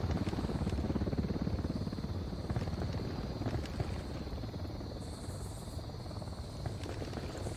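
In the video game Ghost Recon Wildlands, a steady, droning helicopter rotor hum fills the scene continuously, with a faint high-pitched tone riding above it.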